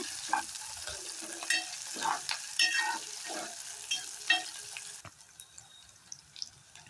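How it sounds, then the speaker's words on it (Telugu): Onions, green chilli and ginger-garlic paste sizzle in a pan while being stirred for cabbage curry, a soft frying hiss broken by scraping strokes and small clinks, fairly quiet, before things go near silent at the end. "ఇప్పుడు దీంట్లో మనం కొంచెం అల్లం వెల్లుల్లి పేస్ట్ వేసుకొని బాగా కలుపుకోవాలి."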